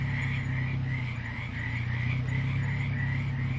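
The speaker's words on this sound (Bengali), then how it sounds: "চারিদিক থেকে ভেসে আসছে ঝিঝি পোকার ডাক।" Crickets chirp in a steady, pulsing night chorus late at night beside an empty road through open fields, a continuous layered trill with a low droning undertone and no voices.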